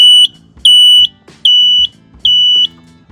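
A GEM E825 electric vehicle's backup alarm sounds four loud, sharp, high-pitched beeps, each lasting about half a second and evenly spaced, with nobody talking.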